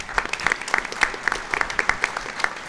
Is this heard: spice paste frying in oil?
no